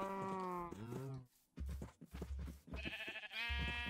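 Sheep bleating in a Minecraft game, several wavering, tonal bleats in close succession, loud and near, some overlapping, with short pauses between calls.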